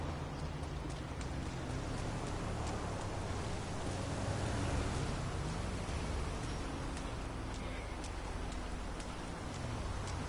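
Rain in the video game GTA Online, a steady soft hiss of falling drops and splashes on puddles, faint and continuous with no voices over it.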